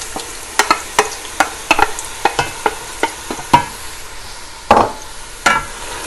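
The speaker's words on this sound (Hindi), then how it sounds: "ये इसको फ्राई करेंगे। ये इसमें देखिए ये फ्राई हो रही हैं।" Raw mango pieces frying in ghee and oil with green cardamom and cloves, a continuous close sizzle punctuated by a regular series of sharp stirring clacks and scrapes against the pan.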